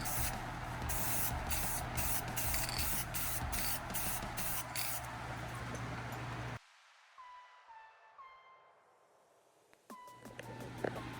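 An airsoft gun is being spray painted army green. A spray can hisses close and loud in a long burst with rattling pulses, then goes quiet while faint background sounds continue, and another brief burst follows.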